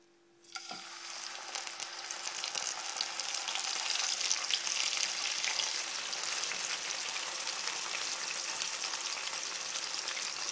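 Tuna fillets fry in olive oil in a pan, a loud, steady crackling sizzle that starts after a brief quiet moment and holds without a break.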